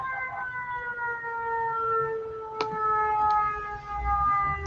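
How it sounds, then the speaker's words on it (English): An ambulance siren wails in slow falling and rising sweeps as it passes by outdoors, moderately loud and steady, with a sharp click partway through. "an ambulance is going by right now"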